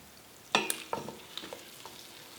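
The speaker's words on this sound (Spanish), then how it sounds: "Tenemos la manteiga diliendo para echar las sopas." Butter melting in a cooking pot, a few sharp clatters then soft intermittent sizzling and crackles, close and fairly quiet.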